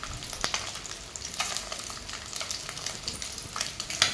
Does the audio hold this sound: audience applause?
no